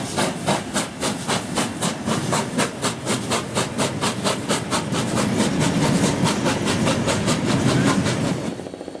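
Steam locomotive 3642 hauls a passenger train through Moss Vale, its exhaust beating in loud, rapid, regular chuffs over hissing steam and the rolling clatter of wheels, building steadily before fading slightly at the end.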